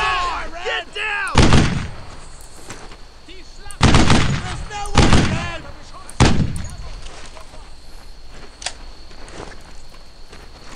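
Gunfire in a Brothers in Arms: Earned in Blood World War II battle, with loud bursts of shots and blasts at about 1.5, 4, 5 and 6 seconds and lighter pops in between, while soldiers shout orders over the fighting.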